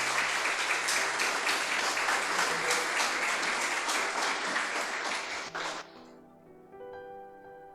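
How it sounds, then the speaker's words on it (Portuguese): Church congregation applauding during a celebration service, a full steady round of clapping that fades out near the end, leaving quiet music and faint sounds. "Dê um aplauso à palavra do Senhor."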